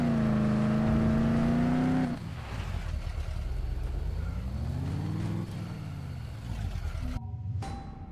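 Car driving in the video game Dead Island Riptide: a steady engine drone with a rising and falling pitch runs throughout, a loud sustained tone at first, then rougher and fluctuating, before cutting off near the end.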